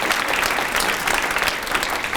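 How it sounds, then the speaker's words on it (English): Steady applause from an audience at a Harvest for Hunger recognition ceremony, continuous and fairly loud throughout with no talking over it. "A round of applause for each of them."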